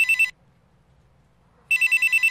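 A telephone rings in two bursts of rapid electronic trilling separated by a silent pause, loud and close, with no one speaking over it.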